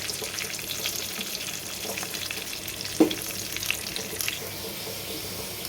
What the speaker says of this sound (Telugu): కరివేపాకు వేగిన తర్వాత కొద్దిగా ఇంగు వేయాలి